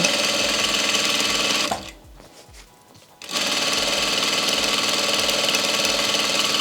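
A sewing machine runs at speed 1200 while stitching a satin bonnet, a fast steady mechanical whir with rapid needle ticking that drops off briefly mid-clip, then resumes at full loudness.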